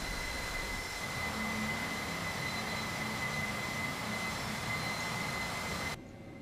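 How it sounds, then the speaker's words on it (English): A jet airliner's center engine starts up in the FlightGear flight simulator game, with a steady jet roar and whine running evenly throughout before dropping abruptly at the end, no talking. "now I will start the center engine"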